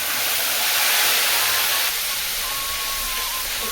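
Bay leaves and panch phoron crackle in hot oil for an Ichor Dalna curry, a loud continuous hiss of steady frying close up with no voices.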